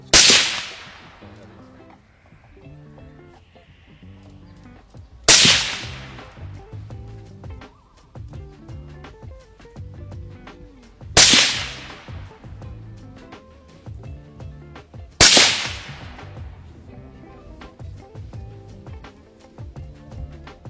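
Four loud, sharp gunshots from a Troy Mark 11 sniper rifle with an 18-inch match barrel ring out at spaced intervals outdoors, each crack decaying into a short echo.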